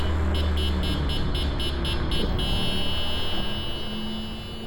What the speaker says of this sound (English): Let's hear that amazing horn one more time.